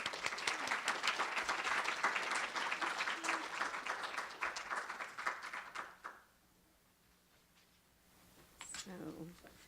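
Audience applause welcoming an artist to the stage at an art talk, a steady roll of clapping lasting about six seconds before fading to quiet, with a brief voice after the pause.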